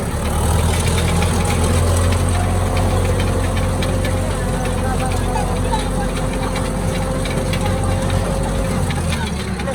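A tractor engine runs steadily and loud throughout, a low throbbing rumble with a knocking idle character, while voices talk over it outdoors in a Nepali village setting.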